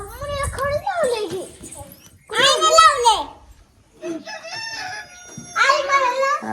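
A rooster crows a few times close by, with children chattering and calling out between and around the crows.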